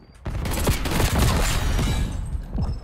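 AEK rifle from Call of Duty Black Ops 6 firing at high fire rate, two rapid bursts of dense, loud gunfire close up, the second following quickly after the first.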